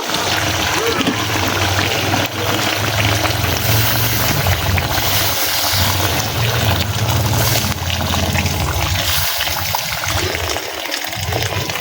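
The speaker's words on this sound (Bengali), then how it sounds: "তা এখন পানি দিয়ে দিব ভালো করে যাতে সিদ্ধ হয়ে যায়" Water poured into native chicken curry in a pot on a clay stove built from a bucket, a steady loud rush of liquid with bubbling throughout, while a voice talks.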